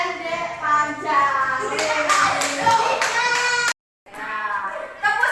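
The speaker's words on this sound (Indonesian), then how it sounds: "tepuk semangat" Rhythmic hand clapping from a group, steady and energetic, with children's voices mixed in and a brief silent gap near the end.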